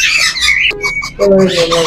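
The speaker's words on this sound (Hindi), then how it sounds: "ये बच्चे मौजूद हैं हमारे पास येलो रिंग नेक के।" Shrill chirps and squawks from yellow ring-necked parakeet chicks at a bird shop, a busy cluster of calls with a short pause midway, close and fairly loud.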